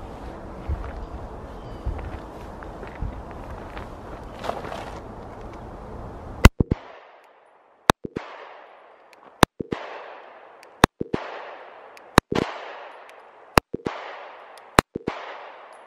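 Pistol shots from a Kahr PM9 at a shooting range ring out as sharp, loud single cracks, about eight evenly spaced at roughly 1.5-second intervals, each followed by a short echo, after a stretch of quieter outdoor background.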